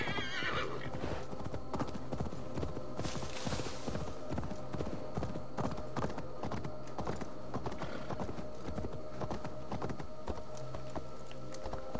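Horse hooves clip-clopping steadily in Assassin's Creed Valhalla, a dense rhythmic patter over a continuous game soundscape, with an occasional whinny near the start.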